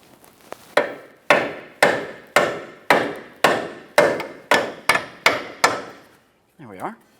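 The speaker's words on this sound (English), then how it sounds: "we'll have to start tapping on the nut itself to break that ball joint free from the lower control arm" Hammer striking the nut on a lower control arm ball joint of a 2010-2013 Kia Forte Koup, about ten loud, close metallic blows at a steady rhythm, followed by a brief squeak of metal.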